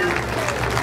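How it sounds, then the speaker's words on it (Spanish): A crowd claps loudly at a Santa Ana patron saint festival in Tusi, a short continuous burst of many hands, with a faint tone running underneath. "aplausos"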